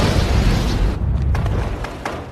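Loud, sustained explosion rumble inside a tunnel, from the film Blackhat, with heavy low-end booming that fills the whole stretch and a few crackling debris bursts trailing through it.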